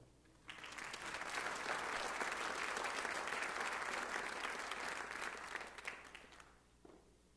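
An audience at an MLK Jr. celebration breaks into applause that swells quickly, holds full and steady for several seconds, then fades to a few scattered claps.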